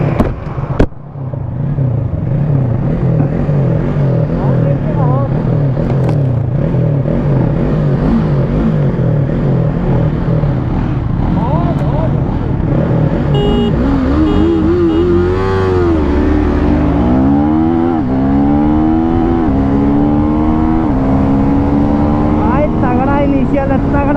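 A Yamaha R3 and a KTM Duke 390 motorcycle accelerate hard in a drag race, with loud, sustained engine roar and rising, sweeping revs building through gear changes, while a voice talks over the noise.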